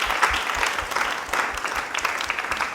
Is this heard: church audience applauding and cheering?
yes